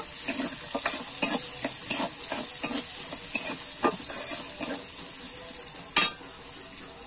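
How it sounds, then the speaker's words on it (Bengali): Onions sizzle steadily in a hot pan while a utensil stirs them with repeated scraping strokes, close and fairly loud. "পেঁয়াজটা কিন্তু আমি ভালো করে ভেজে নেব।"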